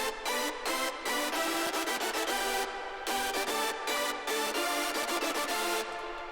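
Bright, wide hardstyle synth chords built in FL Studio play in rhythmic stabs and sustained blocks with brief gated gaps, loud and dense throughout with no voice.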